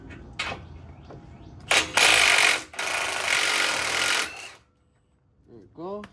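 An impact or ratchet tool on a 2023 Ford F-150 tie rod end nut runs in two loud bursts, a brief one and then a longer steady one, with short clicks before and a voice afterward.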